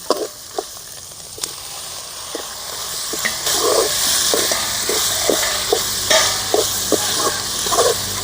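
Tomatoes fry in a hot pan for beetroot kurma, giving a steady sizzling hiss broken by repeated scraping taps of a spoon as they are stirred, close and fairly loud.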